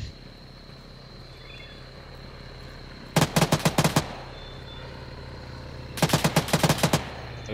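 Machine gun bursts in Arma 3 amid a jungle firefight, two rapid rattling bursts of about eight rounds each, heard at a middle distance over a constant insect-like drone.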